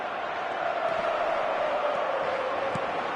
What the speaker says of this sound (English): the crowd clearly like what they just saw